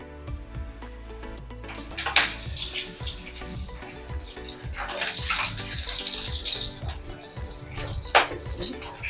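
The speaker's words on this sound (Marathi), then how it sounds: "आपण वरईचे व वडे तळूयात आता तेल तापवलेलं आहे पूर्ण गरम झालेलं आहे" Varai vada frying in fully heated oil, a busy bubbling and crackling sizzle with a few sharper bursts, steady and close throughout.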